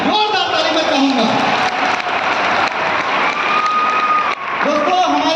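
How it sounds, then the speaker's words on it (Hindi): Loud, dense audience applause fills a presentation hall at an MI Lifestyle business plan event, running steadily throughout with a brief dip near the end, while voices carry over the clapping. "जोरदार ताली मैं चाहूंगा"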